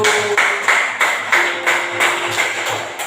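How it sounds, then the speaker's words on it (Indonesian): A classroom group claps in a steady rhythm for a student group that has just finished presenting, and each burst of claps rises and fades about three times a second. "tepuk tangan untuk kelompok 1"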